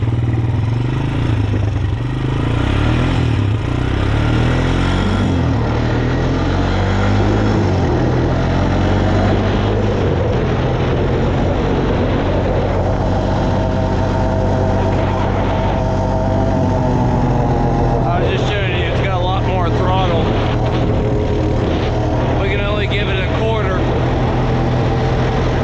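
A Honda TRX250TE Recon ATV with a freshly rebuilt engine idles with a steady low chugging hum, close and continuous, its pitch rising and wavering as the idle is raised, with short bursts of talk partway through.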